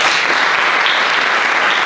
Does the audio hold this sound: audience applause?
yes